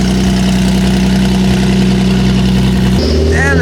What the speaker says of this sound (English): the turbos are loud